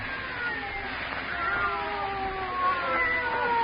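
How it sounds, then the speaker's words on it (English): Several cats meow and caterwaul in an old-time radio horror drama set in a quiet house, their wavering, drawn-out yowls overlapping near and clear, with no talk over them. "They're not ordinary cats. Listen to them."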